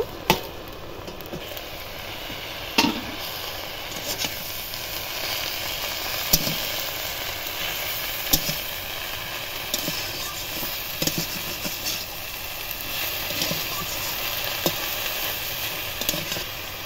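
A taro leaf dish sizzling steadily in a pan while being stirred, with occasional sharp scrapes and taps of the utensil against the pan. The sizzle is close and constant throughout, with no speech.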